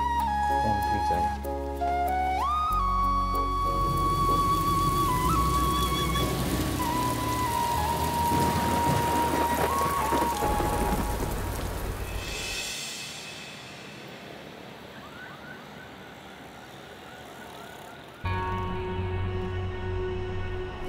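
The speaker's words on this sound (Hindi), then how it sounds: "बारिश हो रही है" Steady rain pattering on a surface, with tonal music-like sounds mixed in for much of the time before the rain continues more quietly.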